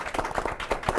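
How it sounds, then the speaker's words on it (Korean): Scattered clapping from a small audience at a live-streamed CEO talk show, a brief burst of claps under faint background voices. "오늘 수고하신 두 분 MC분께 박수 부탁드리겠습니다"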